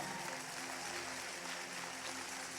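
A church event audience claps continuously in dense, sustained applause that stays steady from start to finish.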